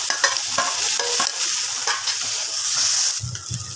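Taro pieces being stirred and fried with prawns in a pan, a steady loud sizzle with repeated scraping strokes of the spatula, ending in a few heavier clunks near the close.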